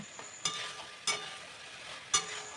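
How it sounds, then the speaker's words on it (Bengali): Fried okra is stirred into a spice masala in a pan, three distinct scraping strokes of the spoon breaking a faint background sizzle. "এবার এই ভেন্ডিগুলোকে মশলার সাথে ভালো মতন মিশিয়ে নেব"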